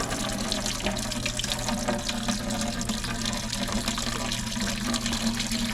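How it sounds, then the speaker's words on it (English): Antifreeze pours steadily out of the radiator of a Farmall M antique tractor, a continuous close splashing gush with a low hum underneath and no pauses. "Now we got some nice clean antifreeze coming out."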